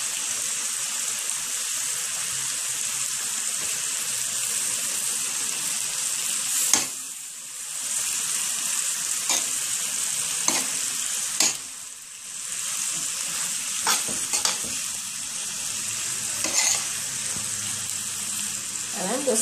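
Ackee and saltfish fried rice sizzling steadily in a frying pan with soy sauce, broken by a few scraping stirs of a utensil against the pan, close and continuous for about twenty seconds.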